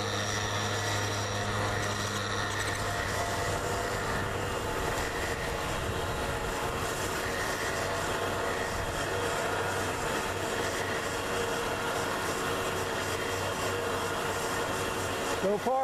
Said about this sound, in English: I'm guiding the cable back on the spool as it takes it up.